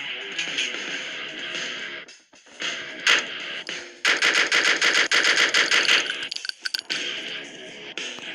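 Rapid automatic gunfire from a heist video game, loud bursts of repeated shots with brief pauses between volleys, close and dominant.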